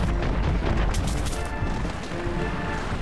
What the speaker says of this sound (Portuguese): Nossa, explodiu o negócio.